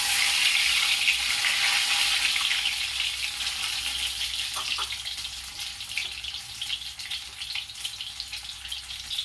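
Egg curry masala sizzles steadily in a pan on a lowered flame, a loud, dense hiss that eases slightly over time, with soft scraping and stirring clicks scattered through it.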